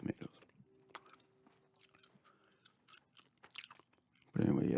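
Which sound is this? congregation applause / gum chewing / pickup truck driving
gum chewing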